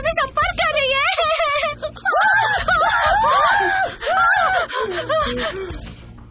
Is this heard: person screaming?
yes